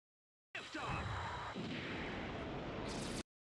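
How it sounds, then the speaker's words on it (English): Mobile suit weapons fire in a Zeta Gundam anime space battle, a loud sustained roar of blasts and booming explosions that runs for about three seconds and then cuts off abruptly. "Look at her shooting."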